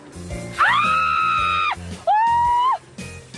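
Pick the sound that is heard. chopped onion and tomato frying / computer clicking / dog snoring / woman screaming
woman screaming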